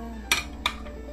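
Ceramic plates and dishes clink twice as a plate is lifted off a jar of Korean pickled garlic chives, two sharp, close knocks about a third of a second apart over quiet room tone.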